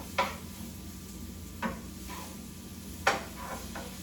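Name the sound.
poblano and Anaheim peppers sautéing in a pan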